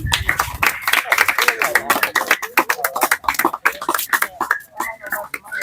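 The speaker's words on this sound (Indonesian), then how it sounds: "nah, sekali lagi kasih tepuk tangan" Lively clapping from a group at a school fitness session, sharp uneven hand claps close by with voices and cheering mixed throughout.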